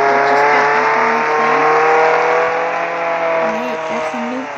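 A car driven in the Roblox Jailbreak video game, a steady synthetic engine drone with tonal layers that waver and pitch up and down as it revs, loud and continuous without speech.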